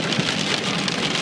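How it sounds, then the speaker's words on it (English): Hail pelts a car travelling west on a freeway, a dense, steady drumming patter of ice on the body, loud and close throughout with no talk. "There is hail on the road."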